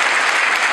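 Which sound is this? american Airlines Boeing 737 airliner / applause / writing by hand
applause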